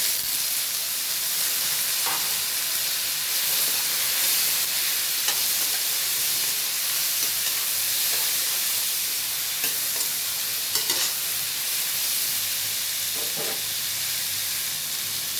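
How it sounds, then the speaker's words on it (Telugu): Chopped tomatoes sizzle in a frying pan for a chutney, a steady, hissing fry that carries on throughout with occasional soft stirring knocks. "ఇప్పుడు మనం కట్ చేసి పెట్టుకున్న టమోటాలు కూడా వేసుకోవాలి"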